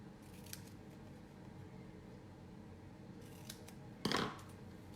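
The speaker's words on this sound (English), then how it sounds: "I'm just gonna hand cut the flag here." Scissors hand-cut a paper flag for a scrapbook page, giving one short, crisp snip near the end over a quiet room background.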